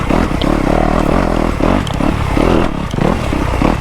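Dirt bike engine chugging and revving steadily while picking through a big rock section on a trials-style trail, close and loud with clattering and scraping underneath, no voices.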